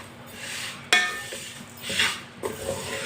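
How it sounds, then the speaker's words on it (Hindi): Washed wheat grains are dry-roasted in a pan, a spoon scraping and clinking against the metal in a few distinct strokes over a faint sizzle, close by with no speech. "गंदम को ना 4-5 मिनट के लिए भून लेंगे।"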